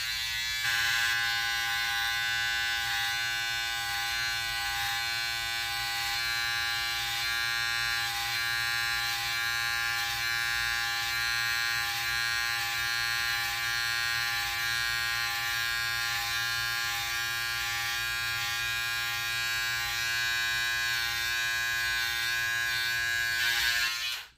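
Electric trimmer buzzing steadily while lining up a beard under the neck during a head shave and beard line-up, a loud, close, continuous motor hum running unbroken throughout with no talking.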